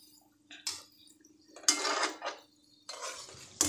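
Homemade dark gulab jamun being dropped into sugar syrup in a pan, with a few separate clinks and soft splashes and some stirring in between, close by and fairly quiet, no talking.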